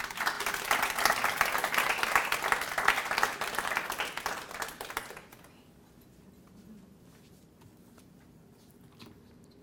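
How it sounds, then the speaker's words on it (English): An audience at a 2018 leadership institute event applauds to welcome a speaker: steady, full clapping for about five seconds, then it stops abruptly, leaving a quiet room with faint shuffling. "So please help me welcome Carol Evans with a round of applause."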